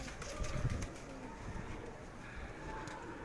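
Breeder pigeons coo softly in a loft, a few low burbling calls early on, faint and somewhat distant over steady background noise.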